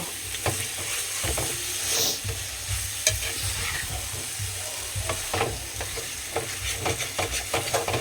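Vegetables frying in a pan with cooked-down masala, a continuous close sizzle with repeated scraping and stirring clatter throughout, no talking.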